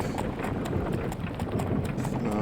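Horse hooves clop along at a leisurely walk in the VR game FATED, a continuous close rhythmic plodding over a dense low rumble with some wind-like noise, no talk.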